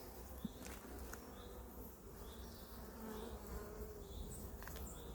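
A honeybee buzzes continuously near an apiary during swarm season, a faint, steady drone with occasional louder passes close by and no voices.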